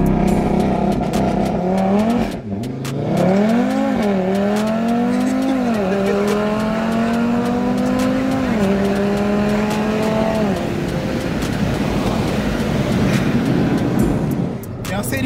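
Modified Audi RS3 accelerating hard, the engine note climbing through several gears with clear shifts. It runs loud and close for about ten seconds and then settles back, with people talking inside the car.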